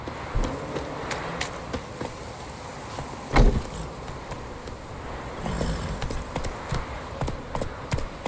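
Roach, a horse in The Witcher 3: Wild Hunt, gallops in a steady run of hoofbeat clip-clops at close range, with no talk over them.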